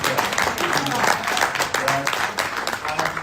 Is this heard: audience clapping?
yes